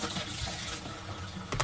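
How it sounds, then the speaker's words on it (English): Tap water runs steadily into a kitchen sink while dishes are washed, a continuous soft splashing close by, with a brief clatter near the end. "I'm just doing my dishes quickly"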